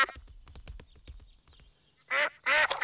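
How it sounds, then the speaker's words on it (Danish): Cartoon ducks quack in a quick series of nasal calls, then louder, brighter honking quacks near the end, with a bit of voice mixed in. "Ænderne vil have mere mad."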